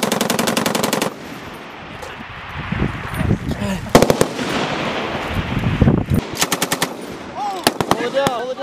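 FAMAS rifles fired in loud, rapid bursts during military training: a burst at the start, then scattered sharp shots and another long burst later, with voices talking between them.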